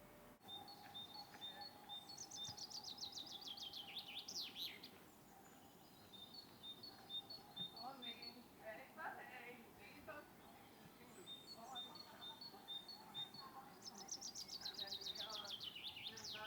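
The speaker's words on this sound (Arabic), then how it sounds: "والأجواء وصوت العصافير." Birds chirp and trill in a flower meadow in Finland, repeated high twittering phrases at moderate distance over a soft outdoor hush, with faint insect hum.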